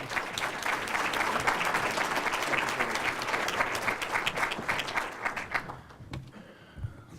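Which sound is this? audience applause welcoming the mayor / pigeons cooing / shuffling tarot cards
audience applause welcoming the mayor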